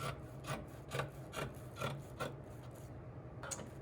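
Scissors cut through fabric pattern pieces with a steady rhythm of soft rasping snips, about eight strokes close by at low volume, quiet with no voices.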